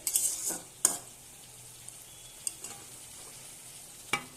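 Bitter gourd stir-fried in a pan, with a soft, steady sizzle broken by a few sharp scrapes and clinks of a spatula against the pan, close and with no talking.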